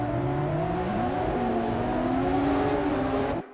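Historic GTR race cars launching from the start at the Österreich-Ring in the Assetto Corsa racing game, several engines droning and rising in pitch together as they accelerate, loud and close, then cutting off abruptly.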